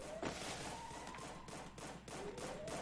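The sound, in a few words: gunfire in the Free Fire video game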